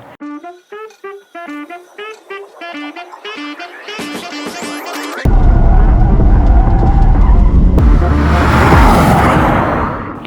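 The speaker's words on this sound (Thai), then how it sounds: "เราซิ่งกันเสร็จเรียบร้อยครับสำหรับ Porsche Taycan 4S Cross Turismo คันนี้ครับ" A Porsche Taycan 4S Cross Turismo electric car runs hard at a track day at Bira Circuit, Pattaya. A rising electric whine and tyre noise come first, then a loud, steady rush of wind and road roar.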